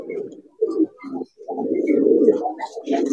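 Several pigeons coo in a loft in Brebes, Indonesia. Soft, low, throaty coos come in short phrases and then a longer rolling call, close by, with faint chirps near the end.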